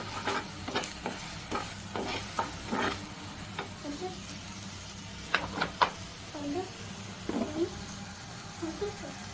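Chicken with spices sizzling in a pan on a lowered flame, stirred with a utensil that scrapes and knocks against the pan in a loose, repeated rhythm; close and clear, with brief talk in between.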